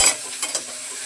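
Spices with chilli and coriander powder and a little water fry in a pan, a quick hiss followed by two brief stirring scrapes over a soft, steady sizzle, close up and without talk.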